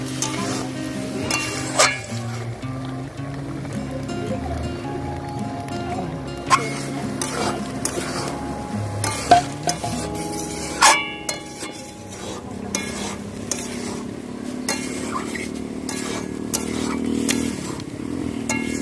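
Hog plum pickle with sugar and jaggery being stirred in a pan: a steady low sizzle runs throughout, broken by repeated scrapes and knocks of the spoon against the pan, close and continuous.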